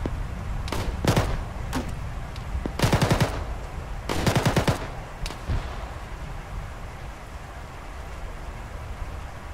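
Rifle gunfire in a military video game cracks out in several bursts, quick rapid volleys of close shots separated by pauses, over a low outdoor background rumble.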